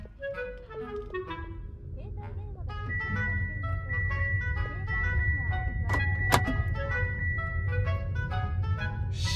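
A Mitsubishi Outlander PHEV pulls away quietly on electric drive, with faint road and motor hum under a steady mix of synthetic tones and chimes that run through the whole stretch, and a sharp click near the middle.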